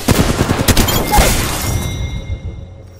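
A rapid burst of gunfire rattles in Apex Legends, dense cracks and impacts over the first second and a half before trailing into fading ringing tones.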